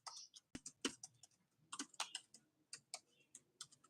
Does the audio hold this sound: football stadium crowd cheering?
no